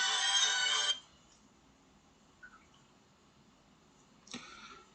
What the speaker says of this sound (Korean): 중간에 전화가 와서 죄송합니다